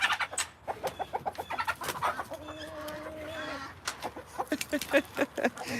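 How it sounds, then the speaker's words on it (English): Close, repeated squawks and clucks come from a hen just picked up on a farm, a rapid run of sharp cries with a drawn-out wavering screech in the middle, fairly quiet overall. "They don't get more dramatic than that chicken."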